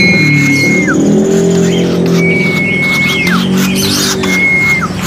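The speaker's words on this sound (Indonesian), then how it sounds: "Ada juga pelatuk sampit barusan bunyi kamu ya." A Sampit woodpecker gives three loud, clear whistled calls, each a long steady note ending in a quick downward slide, close by over a constant low rumble like a nearby engine.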